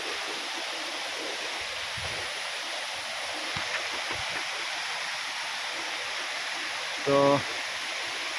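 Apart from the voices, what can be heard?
waterfall and flowing river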